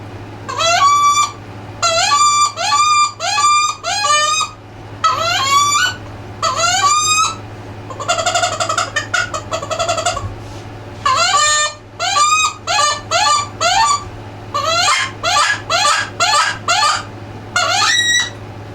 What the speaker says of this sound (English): Noticing you're cupping your hands on that wood duck call.